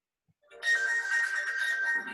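A mobile phone rings insistently with a steady electronic tone that starts after a brief pause and carries on unbroken, close and clear with no talk over it.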